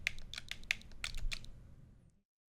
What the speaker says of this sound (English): Are you enjoying this control stick ASMR?